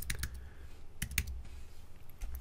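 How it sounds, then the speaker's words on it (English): Keys clack on a computer keyboard in a few quiet, scattered bursts of typing with pauses between them. "I can keep typing."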